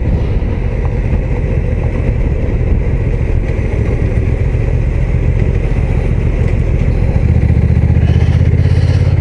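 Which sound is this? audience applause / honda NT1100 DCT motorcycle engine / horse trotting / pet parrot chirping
honda NT1100 DCT motorcycle engine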